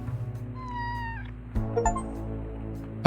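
A cat meows while being petted in the video game Kathy Rain 2, two short rising-falling meows, close and clear, over a faint low musical background.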